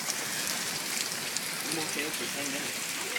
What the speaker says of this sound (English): It's raining now. It's still hailing a little bit.